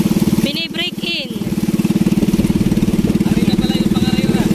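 New boat engine running at speed during break-in, a steady rapid pulsing drone close by, with brief voices near the start.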